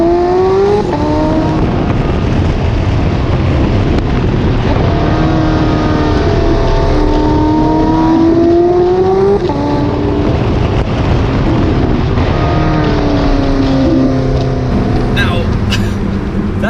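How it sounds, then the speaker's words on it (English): A Porsche 918 Spyder's naturally aspirated, racing-developed V8 engine revs loudly and repeatedly, its pitch climbing and falling in waves through the gears, while a person talks over the engine noise throughout. "That's a Porsche racing developed V8 engine."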